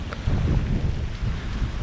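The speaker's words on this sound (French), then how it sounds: "Voilà la grêle." Hail falls steadily during a rainy trail run in Brittany, a dense continuous patter mixed with wind buffeting the microphone, with no voices.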